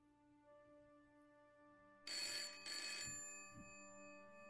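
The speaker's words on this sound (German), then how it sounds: "Das Telefon klingelt." A telephone rings inside an apartment in the Broken Sword adventure game, with two bright electronic trill bursts over soft steady background music, loud and close.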